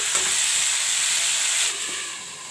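Barbatti greens fry in a pan with a loud, steady sizzling hiss and faint stirring, easing slightly near the end.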